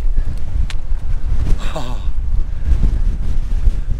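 Strong wind on a Lake District mountain hike buffets the microphone in a loud, continuous low roar with gusting surges, while a voice briefly calls out over it.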